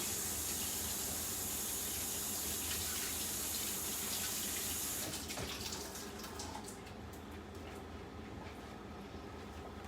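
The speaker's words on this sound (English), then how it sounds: "I'm using kidney beans, and I rinse them" Kidney beans are rinsed under running tap water, a steady, close rushing splash that carries on unbroken and softens slightly toward the end.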